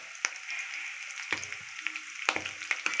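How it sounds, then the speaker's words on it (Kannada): Green chillies and curry leaves fry in hot oil, a soft, close sizzle broken by a few sharp pops and crackles spaced across a few seconds, with no talking. "ಕರಿಬೇವು ಸ್ವಲ್ಪ ಫ್ರೈ ಆಗಲಿ."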